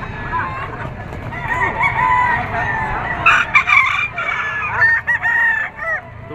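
A Gilmore Hatch stag gamecock crows loudly and close at a livestock auction market in Padre Garcia, Batangas, with drawn-out crowing and clucking over a crowded background.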